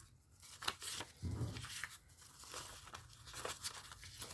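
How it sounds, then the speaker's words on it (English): Paper cash bills, a $20 and two $1s, are slid and stuffed into a paper envelope, giving soft close rustling, crinkling and papery scrapes in short bursts with no talking. "I'm just going to stick this in the envelope."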